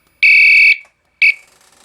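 A fire alarm sounding during a test gives two loud, harsh electronic horn blasts: one lasting about half a second, then a short pause and a briefer second burst with a faint ringing tail.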